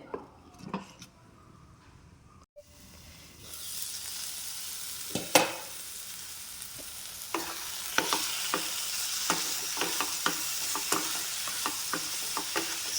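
Soya chunks dry roasting in a pan over a medium flame, a steady close sizzle with repeated sharp clinks and scrapes of a spoon stirring against the pan, starting after a quiet moment.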